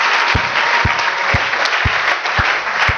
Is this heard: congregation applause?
yes